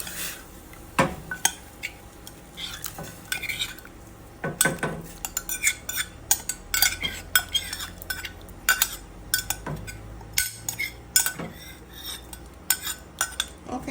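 A spoon scrapes and clinks against a metal pot in quick, irregular strokes, close up, as thick cornmeal porridge is stirred continuously with no voices.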